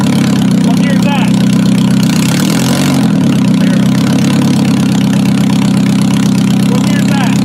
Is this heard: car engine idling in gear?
yes